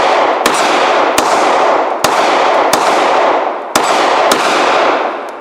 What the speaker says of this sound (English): Ryan, did you want to take a shot with the gun?